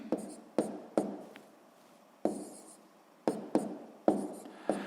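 A pen writes column multiplication on paper: short, close scratchy strokes come in quick bursts with brief pauses between, quiet and alone.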